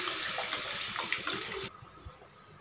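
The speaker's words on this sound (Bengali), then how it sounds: "এবার আমি দিয়ে দেবো পরিমাণ মতো জল" Water pours into a pan of spiced potato curry in a continuous, close splashing rush, then cuts off abruptly, leaving a quiet low room hum.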